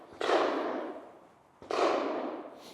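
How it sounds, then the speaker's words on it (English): Pistol shots fired at a target from 15 yards during a timed shooting qualification, two sharp loud reports about a second and a half apart, each with a decaying echo tail. "we're gonna draw and fire 3 rounds in 6 seconds"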